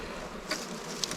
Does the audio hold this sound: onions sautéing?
no